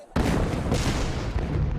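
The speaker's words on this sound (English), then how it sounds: "Explosions rock the city." A sudden heavy blast erupts in a city during the Vietnam War Tet Offensive, followed by a sustained rumbling roar of explosions and gunfire, loud and echoing.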